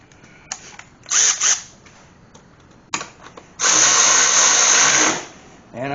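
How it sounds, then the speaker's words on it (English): A ratchet with a 10 mm socket turns a bolt on a BMW Z3 with a 2.8-liter engine during an idler and tensioner pulley replacement, giving short close bursts of rapid clicking and one longer sustained run of ratcheting. "you can take your 10 milli socket, stick it on the end of your rachette"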